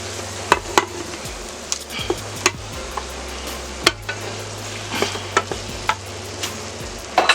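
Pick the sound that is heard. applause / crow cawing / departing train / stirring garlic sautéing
stirring garlic sautéing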